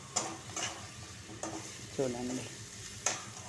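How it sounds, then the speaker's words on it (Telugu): Radish, radish greens, carrot and beet curry is stirred in a pan, giving a soft sizzle with occasional scraping clinks of the spoon against metal, and a brief spoken word partway through. "ఇప్పుడు బాగా వేచుతాను"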